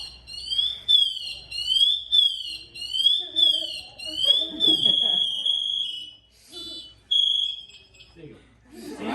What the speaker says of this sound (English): if he lays motionless for about 30 seconds, that alarm goes off on itself